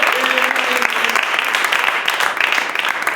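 A church congregation applauds, a dense, steady clatter of many hands clapping together, loud and close, lasting a few seconds after a brief voice at the start.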